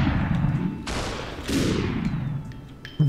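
Gunshots ring out in the video game Superhot: a few sharp, loud blasts with short reverberant tails, followed by a final abrupt shot at the very end.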